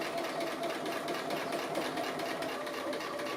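A sewing machine stitching an appliqué runs steadily with a fast, even mechanical whir and rapid needle ticking throughout, close and clear, with no talking over it.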